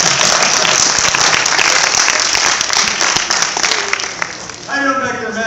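Dense audience applause at a 2015 after-prom event, loud and sustained clapping from a crowd that fades slightly near the end as a voice starts to speak.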